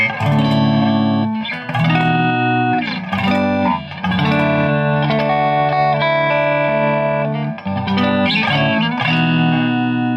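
Electric guitar with a dry, clean tone, a Yamaha Revstar on its neck humbucker pickup with no reverb, plays chords and single notes, ringing steadily at moderate volume with no other sounds.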